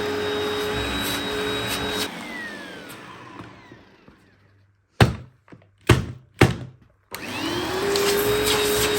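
A Eureka Powerspeed or Vacmaster Respira vacuum cleaner losing suction whines loudly, then winds down to near silence, followed by three sharp thunks before the motor roars back on.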